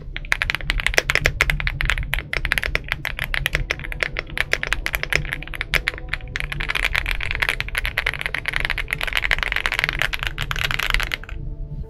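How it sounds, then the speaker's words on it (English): Rapid, steady typing on an aluminum Leobog Hi98 mechanical keyboard, close and crisp, with a dense stream of clacky keystrokes that pause briefly near the end. "This keyboard sounds amazing. It does have those hi-fi layers."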